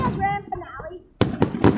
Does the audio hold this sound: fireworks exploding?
yes